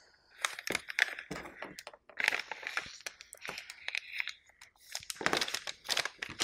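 A sheet of tea-dyed paper, oven- or air-dried, being folded over by hand, giving a close series of dry crinkles and crisp crackles in irregular bursts, with no talking.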